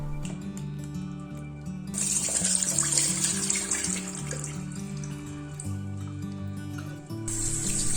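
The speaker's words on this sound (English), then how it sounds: "Rinse them under running water." Tap water gushes steadily into a sink as cremini mushrooms are rinsed, a continuous bright splash that briefly drops out and resumes, with faint music underneath.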